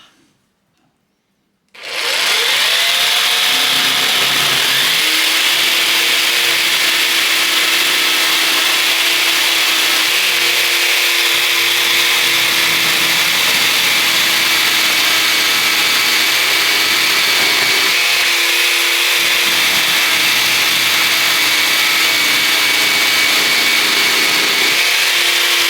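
A Parkside Performance 20V cordless jigsaw, the PSSPA 20-Li C3, starts up and saws steadily through 40 mm thick wood, its loud, continuous buzzing whine running near-unbroken for about 25 seconds with only brief dips in load.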